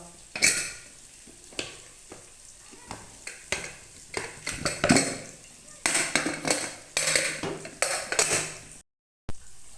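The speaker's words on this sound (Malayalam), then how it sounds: "എയറൊക്കെ നല്ലോണം പോയിട്ടുണ്ട് അപ്പോൾ നമുക്ക് കുക്കർ തുറന്ന് നോക്കാം" Pressure cooker of freshly cooked ghee rice being opened in a home kitchen, with a series of sharp metallic clinks, clatters and scrapes of lid and utensils, fairly close and irregular, and a brief silent gap near the end.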